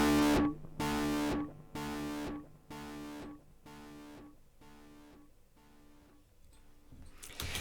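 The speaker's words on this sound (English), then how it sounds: "the delay repeats the overdriven signal again and again" An overdriven, distorted tone is repeated by a delay plugin, giving about a dozen evenly spaced echoes that fade gradually, followed by a brief louder burst at the end.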